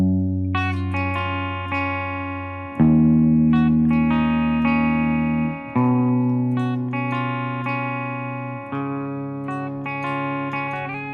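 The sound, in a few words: clean electric guitar intro, half step down tuning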